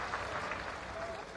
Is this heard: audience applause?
yes